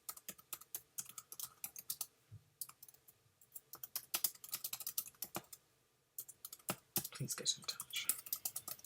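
Someone types a short message on a computer keyboard, rapid irregular clicks in bursts with a brief pause midway, close and clear, while someone talks over parts of it.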